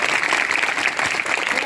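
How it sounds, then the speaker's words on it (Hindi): Students clap in a classroom, a dense, steady burst of applause lasting under two seconds with no break. "ताली तो जोरदार बनती है"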